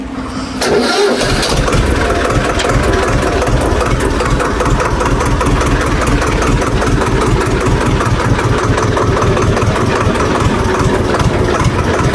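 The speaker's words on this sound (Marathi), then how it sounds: "चालेल ट्रॅक्टर चालू" A tractor's diesel engine cranks and catches, then settles into a loud, steady, rhythmic idle chugging that continues throughout.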